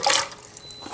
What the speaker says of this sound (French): Et là, je rajoute des pois chiches trempés la veille.